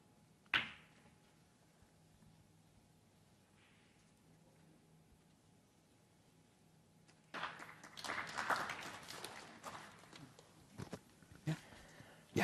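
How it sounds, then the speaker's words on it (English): Snooker crowd at a Scottish Open match between Ronnie O'Sullivan and John Higgins breaking into applause after a quiet spell, clapping swelling and rattling for several seconds before fading, with a sharp knock early on. "Well, applause"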